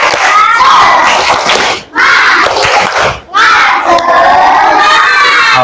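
A classroom of children loudly chants and shouts the tepuk semangat clapping routine in bursts, with two brief pauses between energetic group calls.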